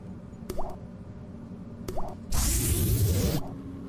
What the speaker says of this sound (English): And a drippy drip.